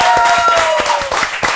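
A studio audience at a televised cooking contest claps with distinct, rhythmic hand slaps close to the microphone, while a voice carries on over the applause.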